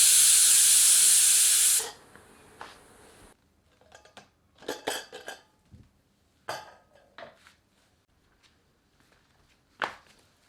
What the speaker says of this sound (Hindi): प्रेशर कुकर का ढक्कन बंद करके 3 से 5 सीटियां मध्यम आंच पर देकर इसे पकाकर नरम